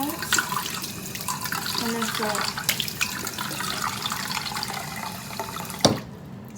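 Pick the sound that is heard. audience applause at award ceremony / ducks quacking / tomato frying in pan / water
water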